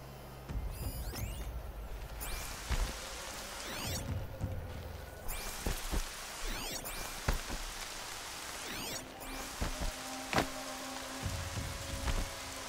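Rainfall in the video game Horizon Zero Dawn: a steady patter and hiss runs throughout, broken by occasional whooshing movement sounds and sharp game effects.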